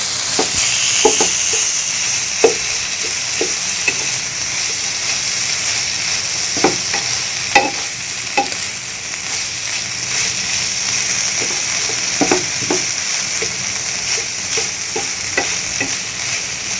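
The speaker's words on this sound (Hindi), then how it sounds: "ये देखें अब इनको मिक्स करेंगे अच्छी तरह से, टमाटरों को, प्याज़ों को, चिकन को" Chicken, tomatoes and onions being stirred on a hot tawa, with a steady close sizzle of frying broken by repeated sharp scraping strokes of the spoon throughout.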